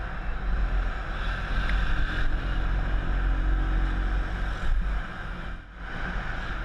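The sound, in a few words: scooter riding down a winding road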